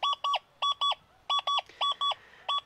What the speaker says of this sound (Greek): Ακούτε βέβαια ένα διαυγές χτύπημα, αλλά η οθόνη ενδείξεων του ανιχνευτή